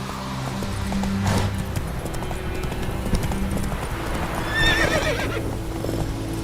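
Roach the horse in The Witcher 3, hooves clip-clopping in a steady galloping rhythm close by, with a shrill neigh rising out of the hoofbeats near the end.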